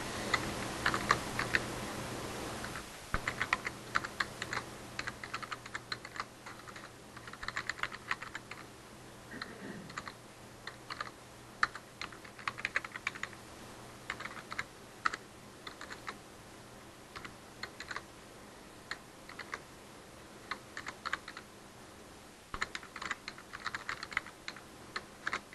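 Continuous typing on a computer keyboard during a web development class, rapid irregular key clicks in bursts with short pauses, close and fairly quiet, no talking.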